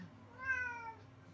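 A cat gives a single drawn-out meow, close and fairly quiet, rising then falling over about a second in an otherwise hushed indoor setting.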